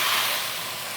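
Fish slid into a hot wok with plenty of oil gives off a steady, bright sizzle that fades slightly after the first moment, close by with no voices.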